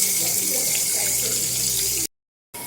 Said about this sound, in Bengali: এখন ধুয়ে নিচ্ছে মুরগি